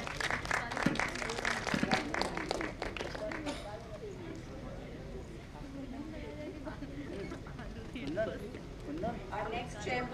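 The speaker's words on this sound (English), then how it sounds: "So a loud round of applause for Professor Madhu Kumar." Applause from a conference audience in an auditorium, a burst of clapping over the first few seconds that fades into a murmuring crowd and talk.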